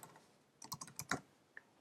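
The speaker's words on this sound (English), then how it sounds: "clicking Enter on your keyboard, and then typing a new name" Quick, light keystrokes on a computer keyboard while renaming an image set: a short irregular burst of several close, quiet taps ending with a single key press.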